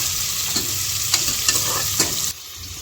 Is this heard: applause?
no